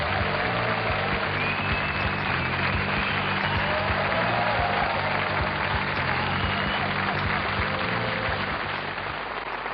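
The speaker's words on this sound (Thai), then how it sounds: "ขอเสียงปรบมือ" A studio audience claps in sustained, dense applause for a pair of English magic champions, steady and full throughout nearly ten seconds.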